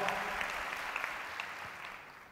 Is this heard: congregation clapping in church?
yes